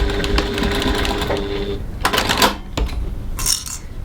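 A sewing machine runs close by as a sling bag seam is stitched out to the outer edge, a steady whir broken by a pause and a few sharp clicks and taps near the end.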